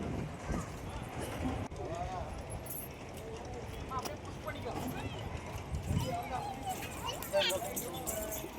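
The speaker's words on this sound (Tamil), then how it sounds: "ஃபஸ்ட்டு குதிரை வண்டிக்கு தான் போகிறோம்." Horse pulling a cart at a theme park, hooves clip-clopping at a steady trot amid crowd babble and nearby voices.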